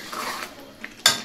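A spatula stirs meat curry in a large kadai, with soft scraping and a few sharp metallic clinks near the end, close and brief, no talking.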